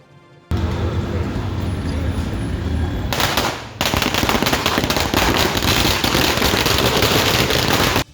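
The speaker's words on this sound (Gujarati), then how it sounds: "પાર્ટીના કાર્યકર્તાઓએ ખમાસા વિસ્તારમાં ફટાકડા ફોડ્યા" Firecrackers lit by party workers at a street celebration in Khamasa, Ahmedabad, crackle in dense, rapid bursts like a long string, loud and nearly continuous for several seconds.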